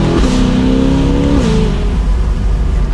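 A Corvette C8 Stingray with a modified exhaust revs hard and close, a loud rising engine note that drops off, followed by rough crackling burble as it settles.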